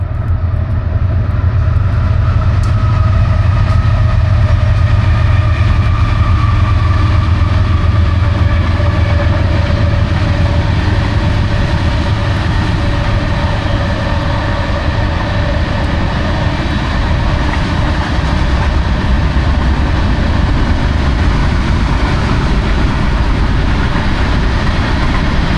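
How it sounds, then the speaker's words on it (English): A heavy freight train rumbles past close by along the Missouri River for the whole stretch, a loud sustained roar of rolling wheels and engine with steady droning tones. "Here comes another train."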